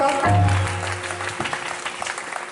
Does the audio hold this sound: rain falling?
no